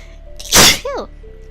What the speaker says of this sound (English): I am just sneezing all over the place